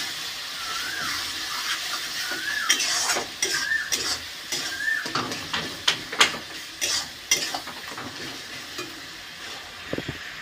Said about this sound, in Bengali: এবার ভালো করে নাড়াচাড়া করতে হবে।